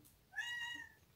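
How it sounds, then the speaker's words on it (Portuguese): A pet cat gives a single short, faint meow indoors. "Esse miado é minha gata"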